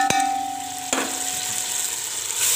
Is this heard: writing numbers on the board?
no